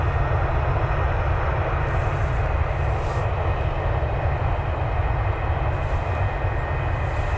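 A United Airlines Boeing 757-300 on a Browns charter flies near Cleveland. Its jet engines produce a loud, steady, continuous roar that holds evenly throughout, with no voices.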